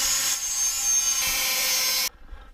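Hot cutting tool slicing into metal plate while fabricating a 1/14 scale lowboy trailer, a loud steady hissing roar lasting about two seconds before cutting off abruptly, with no talk.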